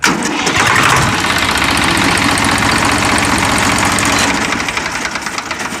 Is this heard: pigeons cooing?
no